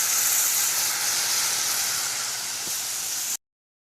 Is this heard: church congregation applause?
no